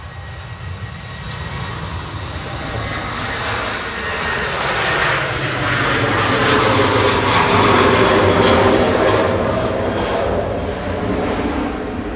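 A Boeing 737-800 jet bound for Belfast roars loudly at Manchester Airport, its broadband engine rumble building over several seconds and holding strong with a steady, close presence.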